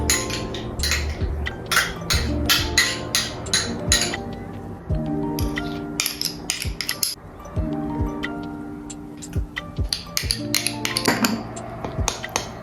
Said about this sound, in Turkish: Malzemelerimizin hepsini bir kapta karıştırıyoruz.